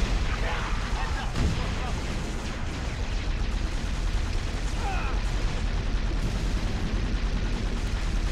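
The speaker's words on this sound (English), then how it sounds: "How is your shield not going down to a massive plasma cannon?" Heavy booming weapon fire and explosions fill a Halo Reach battle scene as a plasma cannon fires, with dense rumbling blasts throughout and a few sharper bursts, continuous and loud.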